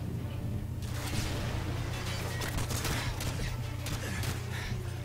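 Bursts of automatic gunfire and scattered shots crackle in a Modern Warfare 2 Special Ops firefight, coming as fast volleys over a steady low engine-like hum, with no talk.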